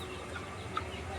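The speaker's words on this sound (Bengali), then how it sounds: "দেখো এরা কীরকম মারামারি করে।" Two young desi chickens clucking as they fight, close by, with soft scattered clucks over a steady low background hum and one brief sharper note.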